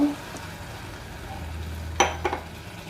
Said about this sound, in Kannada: ಈಗ ನಾನು ಯಾವ ಲೋಟದಲ್ಲಿ ರವೆ ತೊಗೊಂಡೆ ಅದೇ ಲೋಟದಲ್ಲಿ ನೀರು ಹಾಕ್ತೀನಿ